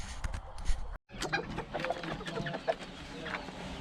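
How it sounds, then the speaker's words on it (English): BB red bantam chickens cluck and chatter close by in short, irregular bursts, with a brief dropout partway through. "Here's a little small video of my BB red bantams."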